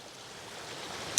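Water in a backyard creek runs steadily as a continuous broadband rush, close by with a constant level and no voices over it.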